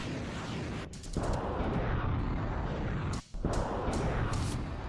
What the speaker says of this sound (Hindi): तोपखाने दनादन आग उगल रहे हैं।